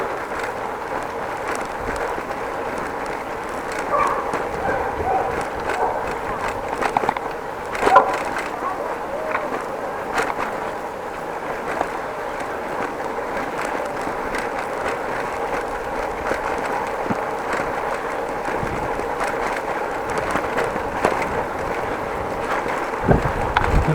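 A Dutch bike rolls over a bumpy trail with a continuous rattling and clattering, close and steady, with occasional sharper knocks from bumps.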